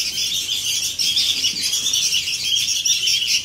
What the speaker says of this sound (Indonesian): Ini ada 10 ekor anakan kutilang.